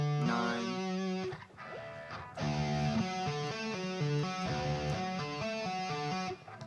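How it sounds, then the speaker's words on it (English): An electric guitar plays a synth-style lead through flanger, reverb and distortion, picking out a melodic line of sustained notes with a brief pause before the phrase resumes, heard alone without talk. "I think the flanger and the reverb and the distortion honestly really help"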